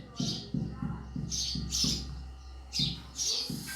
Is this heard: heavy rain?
no